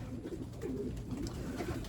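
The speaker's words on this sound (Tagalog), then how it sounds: "ito yung ibon. Maganda yung ibon pero punggok." Racing pigeon cooing close by, soft repeated throaty coos in a short rolling sequence, with no speech.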